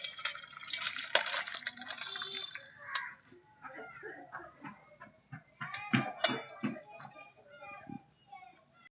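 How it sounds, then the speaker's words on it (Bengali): Thick mutton curry being poured from the cooking pot into a bowl, giving wet, dripping, splattering liquid sounds in uneven bursts, with faint voices in the background. "এবার আমি একটা পাত্রের মধ্যে ঢেলে নেব"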